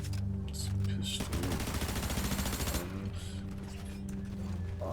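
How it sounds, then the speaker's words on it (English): Pistol fire in a video game sounds as a rapid, dense burst of mechanical gunshots in the middle, with quieter ambient game noise before and after and a voice speaking. "Some pistol."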